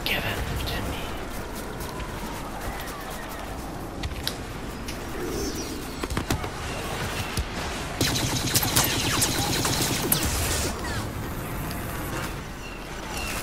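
Blaster fire from Star Wars Battlefront's Walker Assault mode, playing on the Empire side: rapid bursts and crackling volleys, strongest in the second half, within a dense, busy battle mix with voices in the background.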